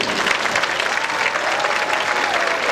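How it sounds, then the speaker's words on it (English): Loud, dense applause from a large arena crowd honoring Dean's List nominees at a FIRST Robotics Competition regional opening ceremony, a continuous wash of clapping with no talk. "let's give a round of applause for all the students who were nominated by their teams for the Dean's List Award."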